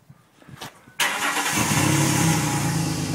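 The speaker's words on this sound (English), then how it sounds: "I'm just going to do a little exhaust run today. So, let's start it up." A 2002 Ford Explorer cranks briefly with a few rhythmic starter turns, then its engine catches abruptly and settles into a loud, steady idle rumble close by.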